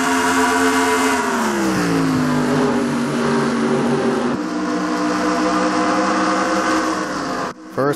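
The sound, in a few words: stock cars racing on track in a video game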